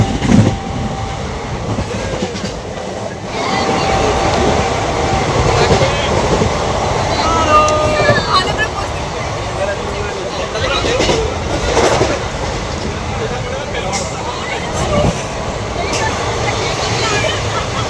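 Inside a moving passenger train, a loud continuous rumble and rattle of the carriage runs throughout with a rhythmic clack of the wheels, and voices murmur in the background.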